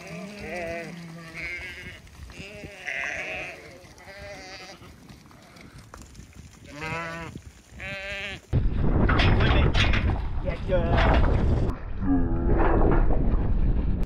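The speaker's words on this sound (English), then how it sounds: "Deadly just walking these sheep in." Pregnant ewes, a few weeks from lambing, bleat repeatedly while being walked in across a farm. Several overlapping calls come close and loud, with a burst of wind or handling noise in the second half.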